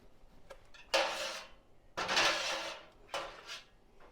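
A lid goes onto a hot glass jar of sugar-free zucchini pickles in a home kitchen. Three close, clattering metallic bursts of handling and closing follow each other with short pauses between them. No one talks.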